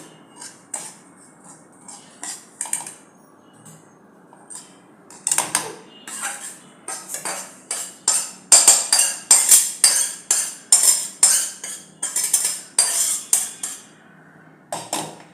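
Roasted semolina being scooped out of a kadhai while making upma, heard as a metal spoon scraping and clinking against the pan, sparse at first and then in quick repeated strokes, with no talking.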